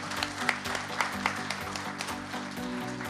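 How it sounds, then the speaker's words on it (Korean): Applause from a seminar audience welcoming a lawmaker at a policy forum on construction engineers, a steady crowd patter of clapping that holds for a few seconds with a low hum underneath. "여러분 큰 박수로 환영해 주시길 부탁드립니다"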